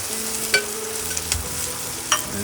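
Garlic in its skins and onion frying in a pan for a crab curry, with a steady close sizzle, occasional crackles, and a few sharp utensil clinks against the pan.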